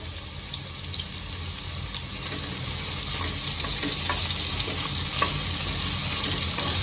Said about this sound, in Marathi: आता आपली मिरची फ्राय झालेली आहे आता ह्यात मी आपला भोपळा जो आहे तो घालून घेते